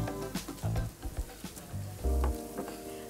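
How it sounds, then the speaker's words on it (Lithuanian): Chopped onions hit a pan of frying carrots and set off a loud close sizzle, with intermittent stirring and scraping clatters over the crackle. "Morkos apkepė, dedame svogūnus."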